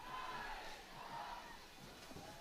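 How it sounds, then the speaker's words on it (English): Crowd at a rainy ultimate frisbee match raising a sustained cheer and shouts, somewhat distant and faint, rising and falling over a couple of seconds. "Rise up cheer from the crowd, hoping to get the Rising back into this game."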